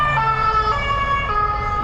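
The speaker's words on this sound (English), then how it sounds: "And also the police car going by right now." A police car siren wails steadily through a Paris street, loud and continuous with a rising and falling tone over traffic noise.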